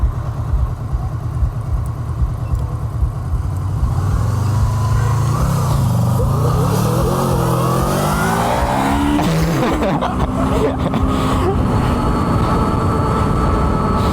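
A 108-horsepower Honda motorcycle races against a small electric bike on city streets, its engine loud and close, revving up with rising and falling pitch as it accelerates away, then holding a steady high drone.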